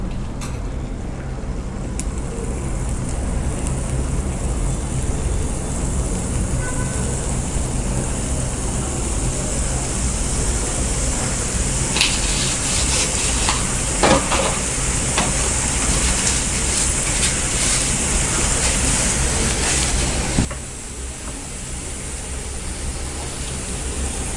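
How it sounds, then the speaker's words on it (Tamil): Jalebi batter deep frying in hot oil, a steady broadband hiss of bubbling oil running continuously and fairly loud, with a few sharper crackles midway before the sizzle drops slightly near the end. "இப்போ டீப் ஃப்ரை பண்ணிக்கலாம்"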